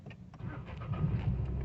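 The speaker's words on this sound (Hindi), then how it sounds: "गाड़ी हो गई स्टार्ट।" A 2019 Ford Figo's engine fires up and settles into a low, fairly quiet idle heard from inside the cabin, with a few soft clicks early on.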